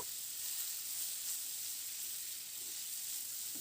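Steamed cauliflower pieces fry in hot oil with turmeric and salt, giving a continuous even sizzle and hiss with no talking.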